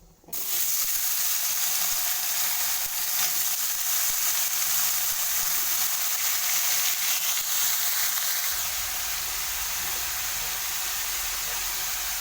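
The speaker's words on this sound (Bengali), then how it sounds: "ভাজা হয়ে গেলে আমি আলুগুলো তুলে দেবো" Potatoes frying in hot mustard oil seasoned with nigella seeds and fried chilies, for a vegetarian singara filling, give a steady loud sizzle throughout, with a deeper bubbling rise near the end and no talking.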